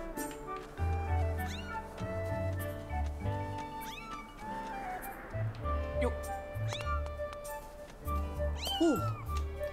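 Cat meowing in The Legend of Zelda: Skyward Sword HD, several rising and falling meows over game music, with people talking throughout.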